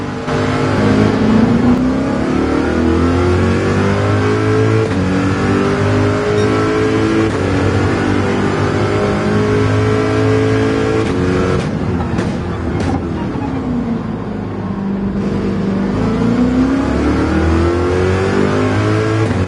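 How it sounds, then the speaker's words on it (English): A Corvette race car in the Gran Turismo 7 video game roars loudly and steadily, its engine pitch climbing and dropping through gear changes with a brief dip mid-lap, close and continuous throughout. "Everything's set, the Corvette's ready to roar"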